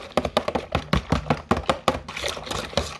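Cinnamon roll bread dough mixture being stirred in a bowl, giving a quick run of sharp knocks and taps from the utensil against the bowl, close and fairly loud.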